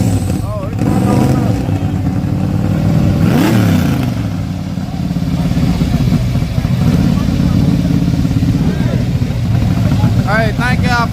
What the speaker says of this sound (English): he was on that rev limiter for real